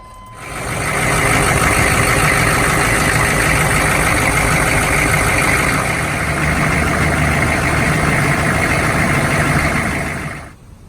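Chevrolet 6.5 diesel engine started and idling after an oil line replacement, a steady loud mechanical rumble running continuously for about ten seconds with no talk.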